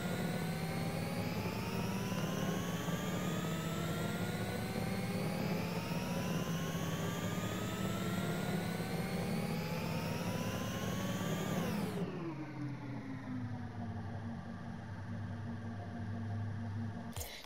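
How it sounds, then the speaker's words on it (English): A Vulcan car engine in a video game drones loudly and climbs in pitch for about twelve seconds, then drops sharply as it shifts and resumes a steady roar, with no talking. "The reason I'm having the Vulcan as the engine audio is because it sounds so good."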